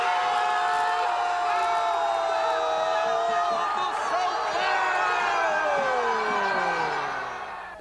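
Stadium crowd roaring as São Paulo equalises to 2-2 in a football match, a loud sustained cheer with horns and whistles blaring through it, easing off at the very end.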